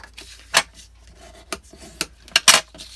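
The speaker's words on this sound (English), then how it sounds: "And then I just folded these 2 sides in like this." Paper pocket for a 12x12 scrapbook page being folded, soft rubbing and scraping of paper with a few sharper crinkly creases, close and quiet, no talking.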